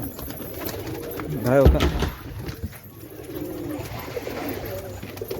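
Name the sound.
pigeons cooing while drinking water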